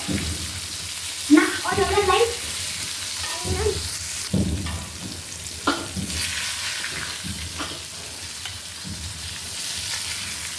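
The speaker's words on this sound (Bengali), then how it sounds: "আর এখানে হচ্ছে মাছগুলা বেজে নিচ্ছি।" Pieces of rohu fish frying in hot oil in a wok give a steady close sizzle, with a few brief clinks and scrapes of stirring near the start and no talking.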